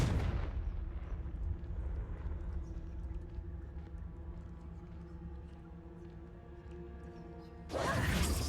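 Confringo fire spell blast in Hogwarts Legacy: a sharp burst opens, a low rumbling roar with droning hum sustains beneath, and a second loud blast hits near the end.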